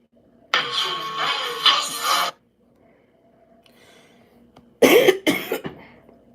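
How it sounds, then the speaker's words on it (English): Two bursts of harsh, rasping coughing from a single person, the first lasting nearly two seconds and the second a tighter cluster of several coughs, separated by a quiet pause and heard close and loud. "my little cough"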